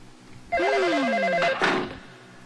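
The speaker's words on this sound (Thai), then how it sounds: "แม่ครับเสียงโทรศัพท์มันดังอ่ะ" A telephone rings loudly in a Thai television cartoon, a warbling electronic ring with a steady trill lasting about a second, followed by a short burst of other noise before it fades.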